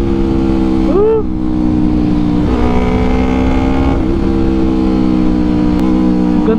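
A Yamaha R3 sport bike with an Akrapovic full exhaust system runs loud and close at high RPM, holding a steady raspy drone with a brief rev swell early on.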